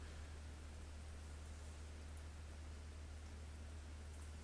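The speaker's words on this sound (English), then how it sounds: "it sounds like white noise. But it's actually the rain" Rain falling outside makes a steady, even hiss like white noise, faint and unbroken, over a low constant hum from indoor appliances such as a fridge and freezer.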